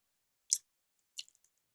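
Two short crisp crunches of a homemade cheese snack being chewed, close and quiet, with a few tiny clicks trailing the second bite and silence between.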